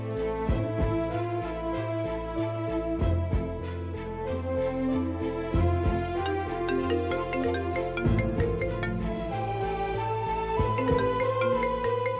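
A phone rings with a melodic electronic ringtone that plays continuously in a repeating tune, clear and steady with no talking over it.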